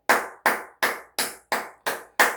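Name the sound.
hand clapping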